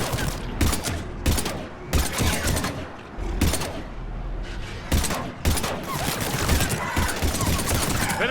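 Sustained automatic gunfire in Mass Effect 3 Legendary Edition, loud close bursts repeating roughly every second over a constant rumbling battle din.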